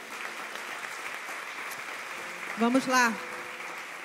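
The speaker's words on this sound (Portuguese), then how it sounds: "Você pode dar um aplauso a Ele nessa manhã?" A church congregation applauds at a Sunday morning teaching service, a soft steady clapping that fills the room while a single voice speaks briefly over it near the end.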